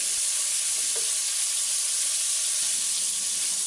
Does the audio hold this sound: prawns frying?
yes